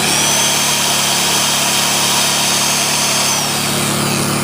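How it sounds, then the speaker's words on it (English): A Sears Craftsman power drill runs steadily and loudly for the whole stretch, a continuous motor whine with no pauses and no voices. "This is my good old Sears Craftsman"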